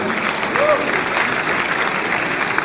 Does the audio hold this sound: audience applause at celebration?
yes